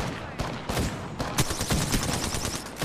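Rapid gunfire bursts and scattered shots from a shooter video game, loud and dense throughout, mixed with other game noise.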